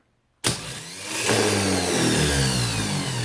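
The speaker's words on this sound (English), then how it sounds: "if I want to see if my starter is good, I'm going to hit this button right here" A vehicle starter motor on a bench test is switched on with a push button. It kicks in abruptly and then whirs steadily and loudly on its own.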